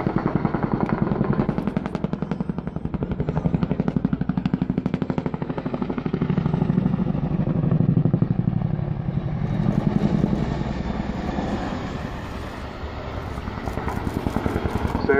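An RAF Chinook twin-rotor helicopter flies a hard-manoeuvring display at Yeovilton Air Day, its rapid rotor blade slap thudding loudly and continuously as the engine roar swells and fades with distance.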